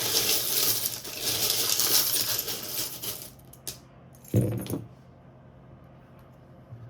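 Small metal tarot charms are stirred together, making a dense jingling clatter that swells for a few seconds. A couple of sharper clinks follow before things settle into quiet.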